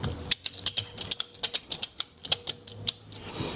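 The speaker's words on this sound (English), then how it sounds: "start wrenching on the ratchet" A ratchet strap is cranked tight on a propane tank holder mount, giving a rapid series of sharp, close metallic clicks in uneven bursts with brief pauses between strokes.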